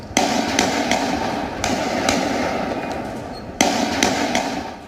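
Gunshots ring out in a street in Brussels, three sharp loud reports spaced about 1.5 seconds apart, each trailing into a long echoing decay over a steady background din.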